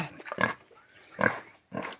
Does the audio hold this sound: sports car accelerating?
no